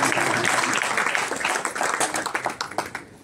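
Audience applause at a talk, a steady wash of many hands clapping that thins into scattered individual claps as it dies away.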